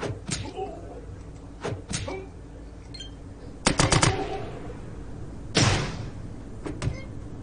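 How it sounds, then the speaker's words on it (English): Automatic weapon fire in the video game ATOM RPG comes as several short, sharp bursts and single cracks spread across a few seconds, close and fairly loud, with a voice talking between them. "He's got a damn automatic weapon."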